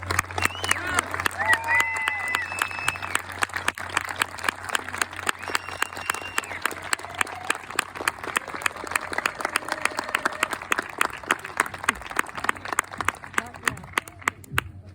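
A crowd applauds at a political rally in Hampstead, Maryland, dense clapping running throughout with sharp individual claps standing out, a low steady hum beneath and some voices mixed in.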